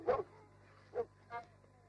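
Dogs barking, three separate short woofs spaced across a couple of seconds, fairly close against a quiet background.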